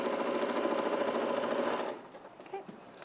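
Sewing machine running a continuous line of gathering stitches, a fast even mechanical whir that stops after about two seconds, leaving faint handling noises.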